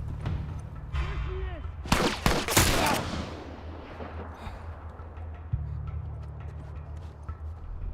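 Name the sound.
gunfire in the video game The Last of Us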